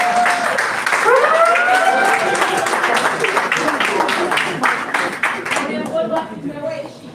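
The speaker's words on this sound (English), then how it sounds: "we need to give Mr. Tai a round of applause" A conference audience applauds loudly and continuously, the clapping thinning toward the end, with a few raised voices mixed in.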